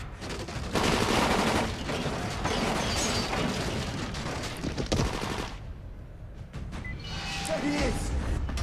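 Dense rapid gunfire in the zombie survival video game Dying Light, loud bursts of automatic shots and booms for about five seconds, then a quieter lull with scattered clicks and game sounds.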